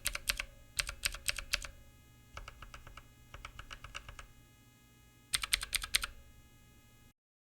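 A Redragon Kumara K552 mechanical keyboard with a mix of swapped and original switches clacks in bursts of quick, close key presses separated by short pauses.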